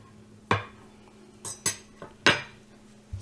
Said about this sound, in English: We got a butter knife for the peanut butter and a butter knife for the jelly.